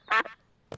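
A cartoon duck gives a loud, nasal quack up close, then a shorter second quack after a brief silence.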